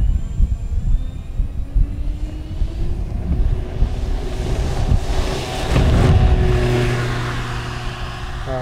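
A Banana Hobby LX Models 79-inch B-25 radio-controlled model plane takes off from a runway, twin engine drone rising in pitch and swelling in volume before easing off, heavily buffeted by wind noise across the microphone.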